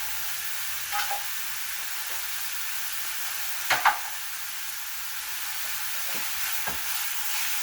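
Hamburger meat fries in a pan with a steady soft sizzle, broken by a few sharp scraping and stirring clacks from a utensil, close by with no talking.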